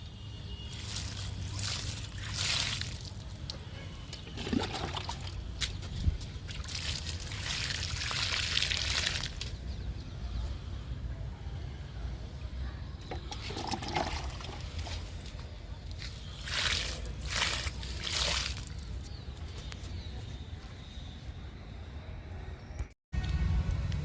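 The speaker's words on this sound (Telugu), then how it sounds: "టమాటా మొక్కలకి వాటర్ ఇస్తున్నా" Water poured onto tomato plants in a home garden, a continuous sloshing trickle with bursts of heavier splashing, close and fairly steady over the whole stretch.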